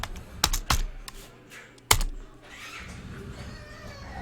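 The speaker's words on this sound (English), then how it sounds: "now we can write code dot to open VS Code inside this folder" Several sharp key clicks on a computer keyboard as a command is typed into a terminal to open VS Code, a quick burst of taps followed by a lone louder press, close and clear with no talking.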